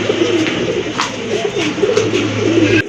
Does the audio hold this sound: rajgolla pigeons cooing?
yes